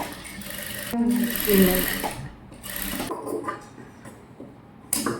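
Sewing machine stitching a gown for a girl aged six to ten, with short mechanical whirring runs separated by pauses, close-up, and a voice speaking in between.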